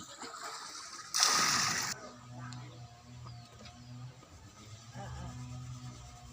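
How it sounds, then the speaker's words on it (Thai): Bowls being washed, a loud close burst of splashing water lasting under a second, then a quieter stretch of faint water and background hum. "ล้างถ้วยเด้อพี่น้อง ล้างถ้วย"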